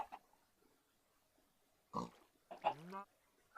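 Pigs oinking in the Minecraft modpack Sky Factory 4: two brief grunting snorts, faint and near, separated by quiet.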